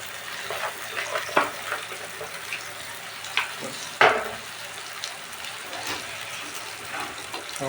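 Egg and chillies fry in a pan for pasta, giving a continuous low sizzle with a few sharp clatters and scrapes as the ingredients drop in and get stirred.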